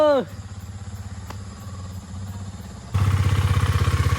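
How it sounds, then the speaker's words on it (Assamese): Motorcycle engine idling with a steady rhythmic putter close by, then revving louder near the end as the rider sets off, with a voice briefly heard at the start. "এই আমাৰ বাইকটো ষ্টাৰ্ট দিলে এতিয়া।"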